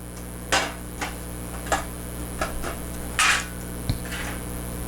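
A springform cake pan for a New York cheesecake being fitted together and tightened, giving a handful of sharp metallic clicks and knocks spaced irregularly, close by and otherwise quiet.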